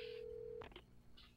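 Telephone dialing in the video game Alan Wake: a steady tone cuts off into a couple of quick dial clicks and beeps, then a short faint tone follows, with low ambient hum underneath and no voices.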